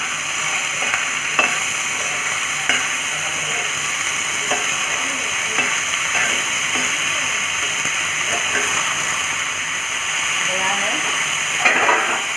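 Mushroom curry sizzles and hisses steadily in a pan while being stirred, with scattered scraping clicks from the spoon throughout and faint talk in the background.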